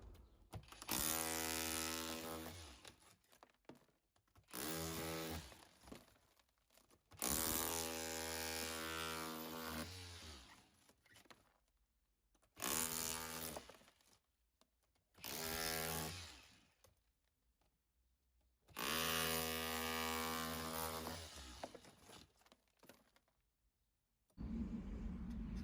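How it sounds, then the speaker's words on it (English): A hammer drill set to hammer mode chisels out old bricks bricking up a flue hole in a wall, running in loud rattling bursts of a few seconds each with short quiet pauses between them, close to the microphone. "and then I'm just going to chisel this out."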